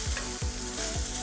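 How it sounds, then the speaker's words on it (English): Pork chops sizzle loudly in a hot pan while being basted, a dense steady frying hiss with rhythmic spoon scrapes and splatters roughly every half second, close up with no voices. "But start to baste."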